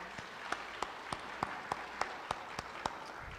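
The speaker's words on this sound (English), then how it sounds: "let's give them a round of applause" Audience clapping at a school yearbook and athletic award ceremony, heard as roughly ten evenly spaced, sharp claps, moderately loud in a quiet room, with no talking.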